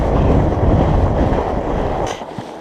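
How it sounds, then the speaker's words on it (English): Strong wind buffets the microphone during a night ride on a Surly Moonlander fat bike over snowy trail, a loud, steady low rumble that fills the whole clip. "There's a pretty strong wind."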